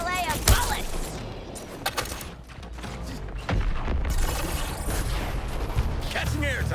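Dense bursts of rapid gunfire and clattering impacts from the video game Suicide Squad: Kill the Justice League, loud and continuous, with a voice talking over the shooting.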